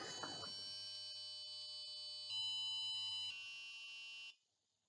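An electronic buzzer on a maker advent calendar circuit board sounds a sustained, shrill electronic tone that shifts pitch a couple of times before cutting off abruptly, loud and close, with a brief soft clatter at the start.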